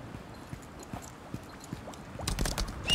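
Horse hooves clip-clop in the video game Lost Ark, a sparse run of soft, evenly spaced hoof thuds that grows louder and busier near the end.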